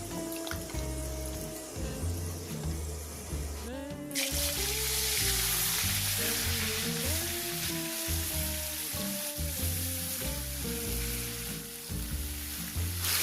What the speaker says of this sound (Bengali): এবারে মাখি রাখা মাংসটা ওই তেলের মধ্যে দিয়ে দিচ্ছি